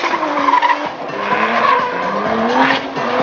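R32 Nissan Skyline drifting at a drift competition qualifying run, its engine revving in repeated rising pulls under a continuous loud tire squeal, close and steady throughout.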